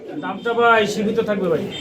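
Soft throaty cooing of Maltese pigeons nearby, a few rounded warbling calls close together.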